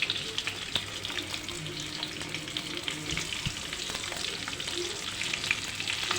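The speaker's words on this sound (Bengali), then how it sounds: "আর একটু নুন আর একটু হলুদ দিয়ে লাল লাল করে ভেজে তুলে রাখি" Potatoes frying with salt and turmeric in a pan, a steady close sizzle with faint scraping and clinks throughout, no voices.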